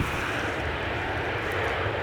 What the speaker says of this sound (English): another A320 taxiing